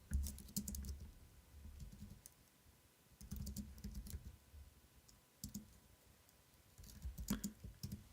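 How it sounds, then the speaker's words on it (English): Quiet, close keyboard typing in irregular bursts of clicky keystrokes with short pauses between them, set against a faint low room hum. "Sorry, typing."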